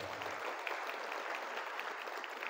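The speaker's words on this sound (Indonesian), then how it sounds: "Tepuk tangan untuk kita semuanya hari ini." An audience at an indoor motivational seminar applauds, a dense, steady clatter of clapping hands that holds evenly throughout with no talking over it.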